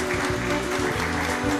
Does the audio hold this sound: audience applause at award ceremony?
yes